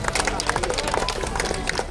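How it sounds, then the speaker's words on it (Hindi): An audience claps for a fifth-place costume entry at a Mr. India competition, dense fast clapping mixed with crowd chatter and voices, steady and fairly loud. "जोरदार तालियों से।"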